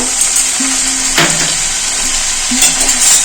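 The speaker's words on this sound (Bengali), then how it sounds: "একটু কষিয়ে দেব সব সবজির সাথে আদা কাঁচা লঙ্কা কষিয়ে নিলাম" Vegetables with ground ginger and green chili are sautéed in a pan for shukto. A steady close sizzle runs throughout, with a few soft stirring scrapes and clinks and no talk.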